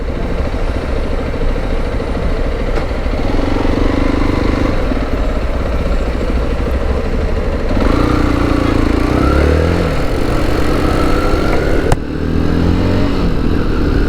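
A motorcycle engine runs close by in a steady, rough, droning idle that stays loud throughout, with a slight shift in pitch partway through and a brief click near the end.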